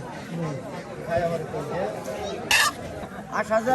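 Chickens cluck at a rural riverside village market at dawn, brief clucks and squawks amid market chatter and people talking nearby.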